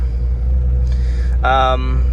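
A Jeep Comanche fitted with Gladiator axles idles with a steady low rumble while a person talks over it.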